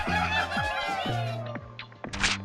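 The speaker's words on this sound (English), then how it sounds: "you pull out your phone and play a few games of Angry Birds" Cartoonish clucking and crowing bird sounds from the Angry Birds video game on a phone, a busy burst of squawks and clucks ending in a short sharp rustle.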